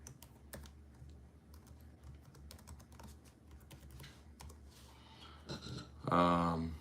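Fingers tap out a password on a computer keyboard in a run of light, irregular clicks over a low background hum, closing with a louder burst of sound in the final second.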